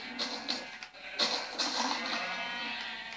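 A black sheep in Minecraft bleats in several short repeated calls, up close and clear over a faint steady background hum.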